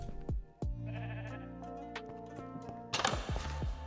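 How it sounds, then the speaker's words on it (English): Sheep bleating in Minecraft, several short nasal bleats at close range, with game footstep clops and a burst of blocky clatter near the end. "That sheep is clogging the way. Oh, now there's 2 of them."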